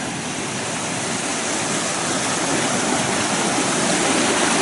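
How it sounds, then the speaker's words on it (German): Steady rushing water of the Rio Majaceite in Andalusia, a dense, even wash of flowing river noise with no pauses, fairly loud and close. "hier ist eigentlich der richtige Fluss"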